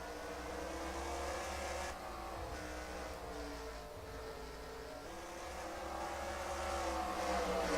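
Race cars in a Red Bull Cup Series race run on track, with a steady, dense engine roar and overlapping revs from a pack of cars, loud and continuous throughout.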